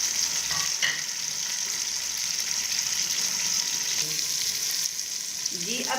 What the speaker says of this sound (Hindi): घी गर्म हो गया, इसमें प्याज ऐड करूँगी और इसको हल्का सा फ्राई करेंगे